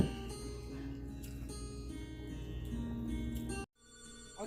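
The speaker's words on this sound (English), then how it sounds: "let me answer the phone" Telephone ringing with a steady electronic ringtone for about three and a half seconds, then cutting off abruptly as the call is picked up.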